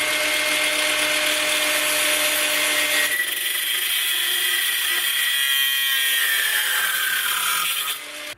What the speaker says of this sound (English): So, goggles on, and we'll cut the bar.